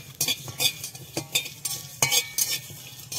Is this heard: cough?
no